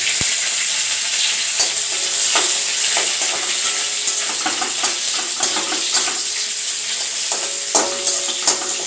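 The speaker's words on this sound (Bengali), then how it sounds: "এটাকে জাস্ট হালকা একটু ভেজে" Brinjal pieces fry lightly in oil in a pan with fresh neem leaves, producing a loud, steady sizzle broken by regular spatula knocks and scrapes throughout.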